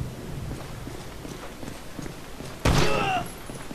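A single loud gunshot in the video game GTA 5 cracks out near the end, following a stretch of quieter game ambience with soft footstep-like thumps.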